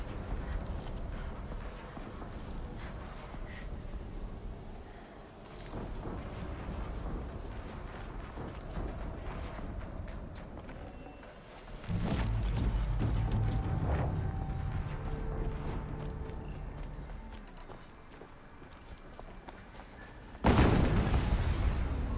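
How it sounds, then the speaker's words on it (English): Deep booming explosions in the Horizon Zero Dawn video game burst out loud over a low rumbling ambience, with a sharp blast near the middle and another at the end. "Another explosion."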